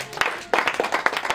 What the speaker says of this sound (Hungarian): nagyon nagy tapsot az úriember